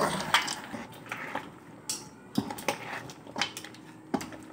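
Crushed peanuts are stirred in a pan while making peanut chikki, with a series of irregular metallic scrapes and clinks of a spoon against the pan, close and fairly sharp.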